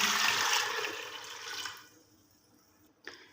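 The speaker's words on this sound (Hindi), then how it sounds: "1 किलो हम इसमें पानी डाल देंगे।" Water poured into a cooking pot holding soaked chana dal, a loud splashing gush that tapers off into quiet, followed by a single brief clink near the end.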